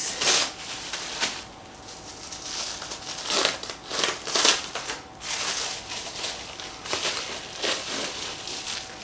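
Plastic wrap crinkling and crackling as it is peeled off a large, overnight-risen nut roll dough, in irregular bursts of rustling close up with no talk.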